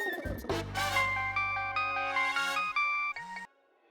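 An electronic phone ringtone melody plays loudly and clearly, a bright chiming tune with sustained notes that stops abruptly near the end.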